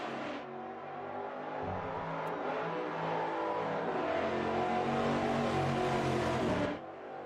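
Race car in the Automobilista 2 racing game heard from the exterior camera, its engine droning and revving steadily with shifting pitch, loud and alone, then cutting off abruptly near the end.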